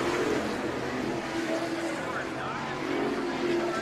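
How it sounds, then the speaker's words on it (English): Spears modified race cars on an oval at Havasu 95 Speedway roar as they accelerate on a green-flag restart, a dense continuous engine drone heard fairly loud with a commentator talking over it. "Good restart for Anderson, breaking away from Jax."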